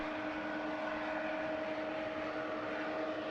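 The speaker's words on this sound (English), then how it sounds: "JA756A, a Boeing 777-300, begins its takeoff procedure. After receiving clearance from air traffic control, the aircraft taxis onto the runway." A Boeing 777-300 jet airliner taxiing onto the runway produces a steady, distant engine hum with a faint whine, constant and unchanging, with no voices.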